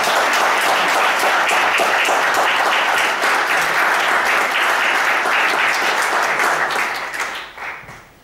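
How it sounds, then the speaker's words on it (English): Audience applause for a volunteer at a stage hypnosis show, a dense, loud burst of clapping that holds steady for several seconds before tapering off at the end. "A round of applause for Jan."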